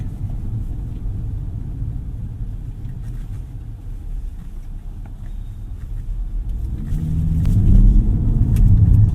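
A 2024 Nissan Z sports car engine rumbles with a low, steady exhaust drone, swelling louder and deeper near the end as it revs up.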